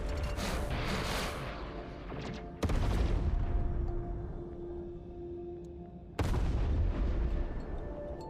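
Video game gunfire in a church gaming stream: dense, loud volleys and bursts run almost the whole time, swelling sharply twice, with no talk over them.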